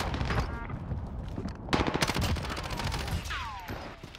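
Rapid bursts of RAM 7 assault rifle fire in Call of Duty Warzone on Rebirth Island, a dense rattling volley with sharp shots clustered near the middle, over busy game ambience.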